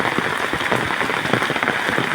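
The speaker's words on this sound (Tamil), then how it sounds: "பார்த்துங்க பயங்கர மழை" Heavy monsoon rain pouring steadily in Nagapattinam district, a dense, loud, continuous hiss of drops drumming on surfaces with no voices over it.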